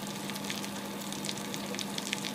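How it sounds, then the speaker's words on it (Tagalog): Chicken pieces fry in oil in a pan, giving a steady close crackling sizzle with fine popping throughout, no talk. "Habang hinihintay din natin yung ating piniprito"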